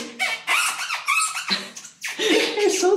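A rapid series of high, rubbery squeaks from Sorel boots on a smooth hotel floor comes in several short bursts close to the microphone.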